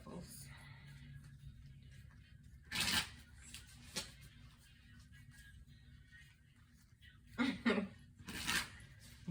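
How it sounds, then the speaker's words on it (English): Tarot cards are shuffled by hand in a quiet room, with two or three short bursts of riffling and sliding card noise separated by near silence. "We'll do a couple more shuffles."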